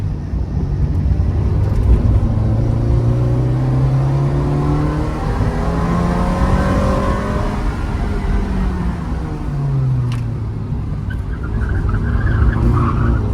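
Tires squeal in long, wavering skids as a Ferrari Mondial t Coupe slides around, with the engine droning loudly underneath throughout.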